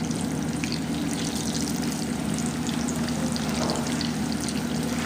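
Bread kebabs fry in hot oil with a loud, dense, unbroken sizzle that holds steady throughout, up close and alone.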